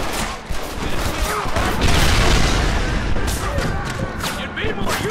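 Gatling gun fire in the video game Red Dead Redemption: a sustained, heavy barrage of booming shots that swells loudest midway, with voices and other battle noise mixed in.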